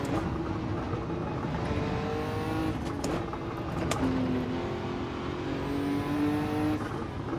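Lamborghini racing in Gran Turismo 7, a steady high engine drone with rising gear-change pitch sweeps and occasional sharp ticks, continuous and loud, no voices.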